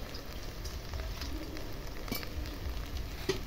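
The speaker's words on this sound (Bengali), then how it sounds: "থালার মধ্যে আমি জল দিচ্ছি" Water poured into a plate holding papad for soaking gives a steady, faint, splashy hiss at close range, with a couple of small clinks and no voices.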